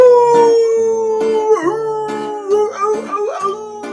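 Several dogs howl together up close, long wavering tones overlapping, broken by yips and whimpering rises, loud and with no talking.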